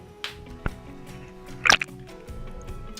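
A washed cucumber is lifted out of a bowl of water, giving a brief drip and splash with a few light drops and small handling knocks, close and fairly quiet.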